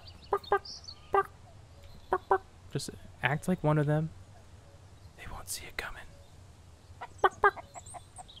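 Chickens cluck in short bursts, scattered through a spell of video game play in the zombie survival game Mist Survival, while a player talks quietly and whispers over them.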